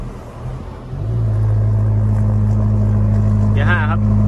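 A steady car engine idles close by after sitting unused for several days, its low rumble rising slightly and then holding constant, with a brief faint voice near the end.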